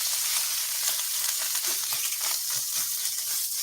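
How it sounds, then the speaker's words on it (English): Continuous bright sizzling of chicken frying in hot oil, steady and close, with no voices. "you should hear a nice little sizzle"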